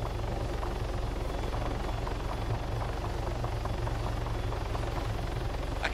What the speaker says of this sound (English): this helicopter is ear deafening